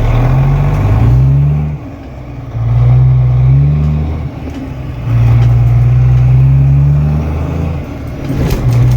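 A 1991 Peterbilt truck engine runs up through the gears, loud and close, with three long rising pulls each broken by a brief dip as it shifts.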